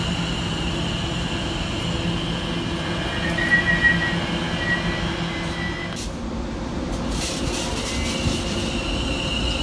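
A Class 720 train in Remembrance Day livery passes on the Great Eastern Main Line, a steady rolling rumble with a faint wheel squeal, growing brighter and noisier toward the end.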